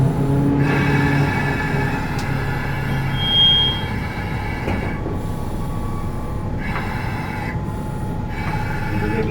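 A car-carrying train rumbles steadily along the rails and comes in to a stop with its air brakes applied. Wheels squeal intermittently over the loud, close rolling noise, and no one speaks.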